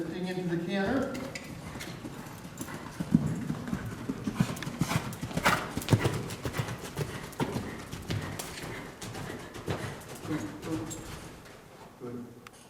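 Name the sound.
horse hooves cantering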